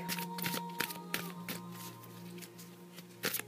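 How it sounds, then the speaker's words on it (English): Soft, repeated riffling and tapping of oracle cards being shuffled, close by and quiet, in irregular bursts. "you just shuffle until you feel that your deck is shuffled"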